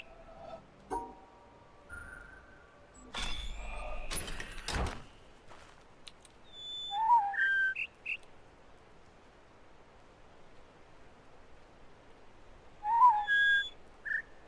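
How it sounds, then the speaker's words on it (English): Chirpy bird notes from a PC puzzle game sound twice as short rising whistles, separated by quiet stretches, after some earlier synthetic tones and clicks. "I hear the little bird, and the little bird's notes add up, but in the wrong direction."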